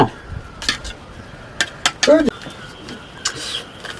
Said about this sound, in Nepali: प्याज काट्न